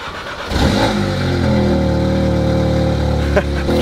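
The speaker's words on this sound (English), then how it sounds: "Do a cold start properly. Have a little listen." A car engine cold-starts close by with a quick crank and catch, then holds a loud, steady fast idle with a brief blip near the end.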